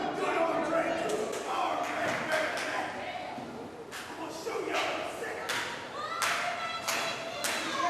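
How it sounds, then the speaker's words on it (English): A wrestling show crowd claps along in bursts of sharp hand claps mixed with thuds from the ring, while a commentator talks over the noise throughout. "Clapping. Getting the crowd on his side is the Canadian Kid."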